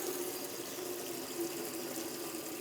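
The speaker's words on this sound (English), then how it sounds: "you add water." Cold filtered water streams steadily onto raw buckwheat groats, a close, continuous splashing pour with no talk.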